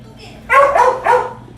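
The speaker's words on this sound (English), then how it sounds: "You started barking, dummy." Asgard the dog gives two or three quick, close, loud barks in a short run, with a faint whine before them.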